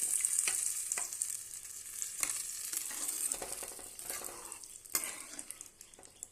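A pan of bottle gourd kootu with its tempering stirred in, a steady frying hiss running throughout, broken by several sharp scraping knocks of a spoon against the pan.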